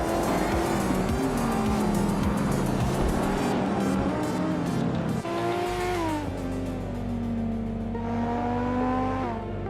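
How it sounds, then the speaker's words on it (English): Race cars, including a 1994 Nissan 300ZX, at a rallycross event in a racing video game: loud engine drone with rising and falling revs across gear shifts, dense and continuous with no talk. "HP Lootcraft is driving a 1994 Nissan 300ZX, which is known for its balanced performance and sleek design."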